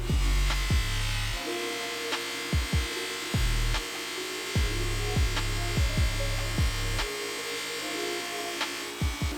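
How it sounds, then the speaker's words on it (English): A bench grinder running a loose cotton polishing wheel charged with white compound, a steady motor whine broken by repeated scraping pulses as a motorcycle suspension part is pressed against the wheel, with no talking. "I'll be using a cotton polishing wheel on the bench grinder, along with a white polishing compound"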